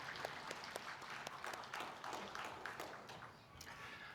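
Congregation applause fills a church during an Easter Sunday service: dense, steady clapping from many hands for about four seconds, with sharp individual claps standing out from the mass.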